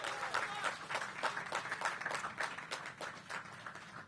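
A crowd at an outdoor ribbon-cutting for a new affordable senior housing building breaks into steady applause, dense overlapping claps at moderate distance, with a few voices mixed in.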